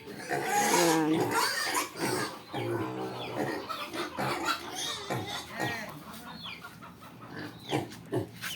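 Pigs on a piggery farm grunt, squeal and snort in irregular bursts, close and fairly loud, with a person's voice mixed in at times.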